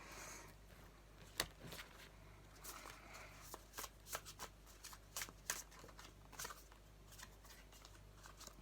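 Tarot cards being shuffled and drawn, giving quiet, soft riffling and scattered crisp flicks and snaps over a faint low hum, fairly close but at low level.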